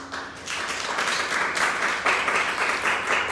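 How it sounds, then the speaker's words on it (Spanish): Audience applause for a guest speaker at a mental health talk: a dense, loud burst of many people clapping together, swelling quickly and continuing steadily with rhythmic surges. "Les pido por favor me regalen un aplauso para nuestro ponente del día de hoy."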